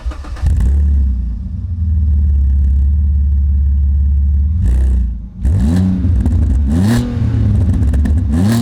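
An Alfa Romeo 147 GTA engine runs at a loud, steady idle. After a brief dip it is revved several times, each rev rising and falling sharply, very close by.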